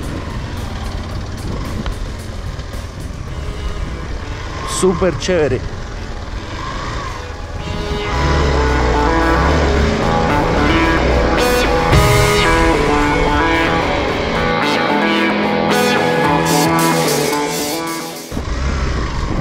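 A Hero Xpulse 200 dirt bike runs off-road with a steady engine drone that swells louder partway through and holds, then drops near the end, with a brief spoken remark early on.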